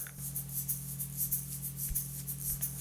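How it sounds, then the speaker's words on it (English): Rapid, rhythmic shaker strokes panned left and right, a crisp repeated swishing hiss over a low steady hum, played at an even pace. "I was just kind of shaking the shaker in front of the mics awkwardly"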